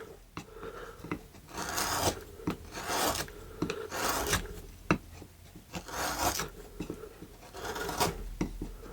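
Knife scraping and gouging into a basswood block while whittling a full-body cowboy figure, a run of close rasping strokes in uneven bursts with short pauses between cuts.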